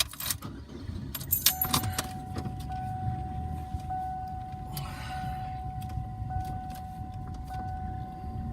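Car keys jangle in a few quick metallic bursts near the start, then fall quiet over a steady low car hum and a faint sustained electronic tone.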